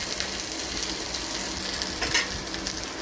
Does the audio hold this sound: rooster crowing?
no